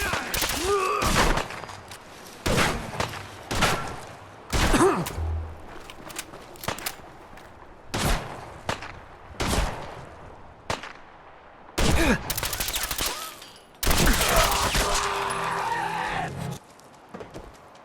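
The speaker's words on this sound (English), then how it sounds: "When the bullets start flying, find cover." Gunfire from a firefight in Fallout 4: repeated loud shots and bursts hit across the whole stretch, some clustered into rapid volleys, with voices and other game noise in between.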